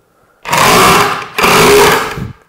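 Impact wrench backing a concrete screw out of a timber-frame anchoring, two loud close bursts of rapid hammering whir with a short pause between them.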